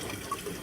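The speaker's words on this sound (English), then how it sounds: "We're just putting it back through the pump, back up through the Nurm's coil, trying to rinse out a bit of that beer." Beer wort recirculating on a passionfruit beer brew day, pumped back up through an immersion coil: a soft continuous trickle and flow of liquid, faint and steady.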